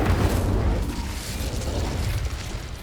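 Incendio fire spell cast in Hogwarts Legacy, a dense low rumbling whoosh of flame that is loud at the onset and then settles into a sustained roar, heard alone.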